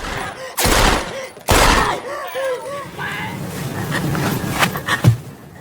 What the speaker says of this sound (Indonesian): Fukami tiba-tiba kalap dan menembaki Samiun berkali-kali.